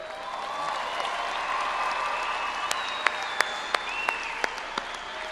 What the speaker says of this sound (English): Please join me in a round of applause for Dr. Jeffrey Meyer and the El Paso Commun